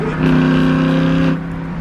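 A loud car engine revs to about 4,000 RPM, climbing and holding a throaty tone up close before dropping back to a rumbling idle.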